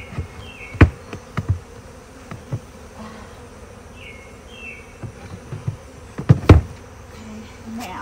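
Honeybees buzz around the entrance of a beehive, a soft steady drone broken by a few sharp knocks and taps nearby.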